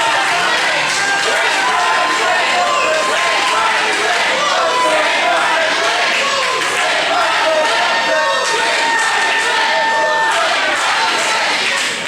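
A wrestling crowd at a Warriors of Wrestling show roars continuously at a Shelton Benjamin versus Riley match, a dense wall of loud shouting and cheering with scattered yells on top throughout.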